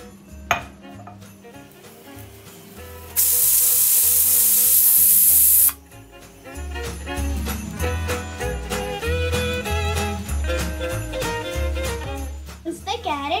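A pressure cooker cooking carrots in water gives one loud, sustained hissing whistle for a few seconds amid kitchen clatter and background music.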